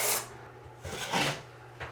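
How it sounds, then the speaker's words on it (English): Light hand sanding of drywall mud during a bathroom remodel gives a few soft, close rasping strokes, each short scrape separated by brief pauses. "And then a light sanding."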